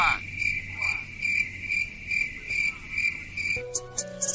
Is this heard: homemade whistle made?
no